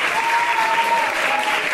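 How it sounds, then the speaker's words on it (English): Concert audience applause for the singers at the close of a show's first half: a dense, loud, sustained wash of many hands clapping in a hall, steady throughout the brief stretch. "please give a round of applause for all of our singers in this first half of the show"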